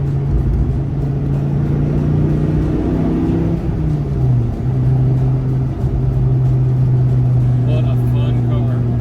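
A Dodge Viper's engine drones loud and close, its pitch climbing and dipping as the car accelerates and shifts, a continuous throaty roar that fills the whole stretch.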